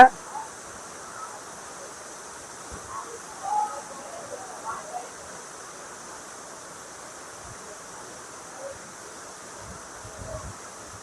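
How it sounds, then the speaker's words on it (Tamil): The Aagaya Gangai waterfall in the Kolli Hills makes a steady, soft rushing hiss from a distance, unbroken throughout, with faint voices now and then. "அந்த அழகங்க நீர்வீழ்ச்சி பார்க்கவே அவ்வளவு அற்புதமா இருக்கு"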